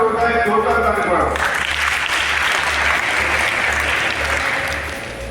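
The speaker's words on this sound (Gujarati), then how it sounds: "જોરદાર તાળી પાડો" A voice and a tonal sound open briefly before loud, sustained applause breaks out and fills the hall. The crowd is at a school retirement-honour and Class 10–12 convocation ceremony at Shri Ogad Vidyamandir in Thara, and the applause fades slightly near the end.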